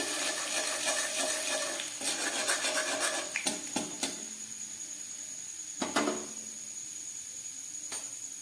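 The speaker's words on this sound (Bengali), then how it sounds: "দিয়ে দিচ্ছি হাফ চামচ রসুন কুচি রসুনটাকে একটু ভেজে নিচ্ছি" Chopped garlic fries in a pan with dried red chillies while a spoon scrapes and rubs across the pan. A steady frying hiss fades partway through, and a few sharp knocks follow.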